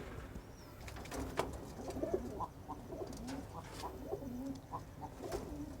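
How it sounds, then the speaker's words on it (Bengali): Pigeons at a Khulna pigeon market give soft, repeated coos that overlap one another against quiet background chatter and market bustle. "এখানে আরও কবুতর আছে"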